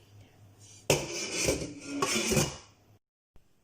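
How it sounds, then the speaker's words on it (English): A pot of keto sweet and sour sauce set down on a stovetop, heard as a loud clunk and scraping of cookware lasting a couple of seconds, then silence. "Let's go and put on the stove and start cooking."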